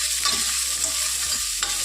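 Chopped small shallots sauté in a pan for a squid roast, giving a steady close sizzle broken by several light scraping stirs, with no voices present.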